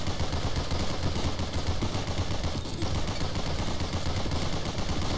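Constant gunfire in the video game GunCraft Survivor, a dense, unbroken barrage of overlapping shots at steady loudness with no pauses, alone.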